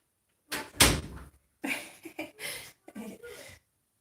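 A door in a home is shut nearby, a few close knocks and bumps followed by a firm thud, with a brief muffled rustle of movement afterward.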